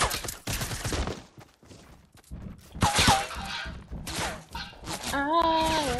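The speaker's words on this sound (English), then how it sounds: "where am I getting shot from?" Gunfire in the video game Fortnite, sharp cracks and rapid bursts in clusters with gaps between them, mixed with game effects and a voice speaking.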